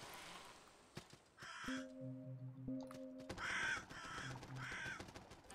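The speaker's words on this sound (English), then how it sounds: "Scare the crows away." Crows caw in the video game Salt and Sanctuary, several harsh calls in bursts over a layered game soundtrack with low tones and effects, fairly close and clear.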